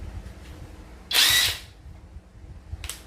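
A TIO MOON WHT80S high-torque impact wrench unscrewing, one loud close buzzing burst of about half a second followed by a brief fainter whir near the end, with no talk.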